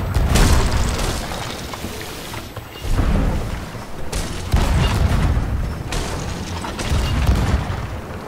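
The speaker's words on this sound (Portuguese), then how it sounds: "Vamos levar canhoadas." Ship cannon fire in Sea of Thieves during a naval battle, heavy booming blasts in repeated waves with loud rumbling between them, close and dense.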